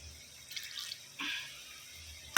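Lentil and vegetable broth with a few vegetable stalks simmers in a pot, giving soft, sparse bubbling pops and drips that stay faint and close, with no talking.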